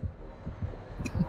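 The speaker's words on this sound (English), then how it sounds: "I hear a heartbeat." In the Dead by Daylight video game, a low, muffled heartbeat throbs in a steady repeating rhythm, faint and close, with a soft hum in the background.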